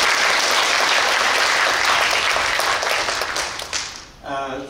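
Lecture audience at a Palace Museum talk on an exhibition of immortal-mountain paintings breaks into sustained applause, a dense wash of many hands clapping that thins and fades near the end as a single voice begins.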